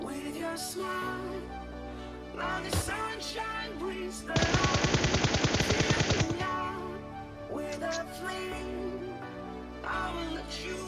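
Rapid automatic gunfire from a PUBG Mobile match: a dense burst of shots lasting about two seconds, loud over background game music and effects.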